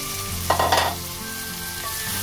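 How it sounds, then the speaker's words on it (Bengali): Potatoes dropped into hot oil for a Mughlai dish, a sudden close burst of sizzling and stirring that settles into a steady frying crackle. "এবারে এর মধ্যে আমি আলুগুলো দিয়ে দেবো"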